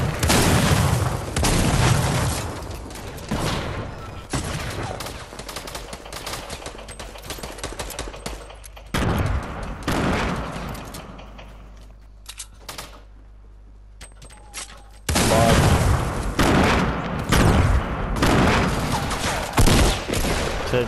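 Fortnite gunfire crackles in loud rapid bursts with booming shots, easing into a quieter stretch of game ambience before heavy firing resumes.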